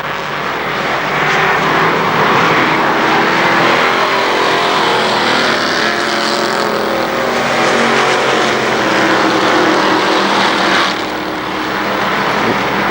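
Stock cars roar around the KilKare Speedway oval in a loud, continuous wash of engine noise, with cars sweeping past through turn 2 and no gaps in the sound.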